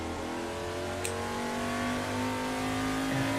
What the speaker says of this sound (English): The engine sounds just beautiful.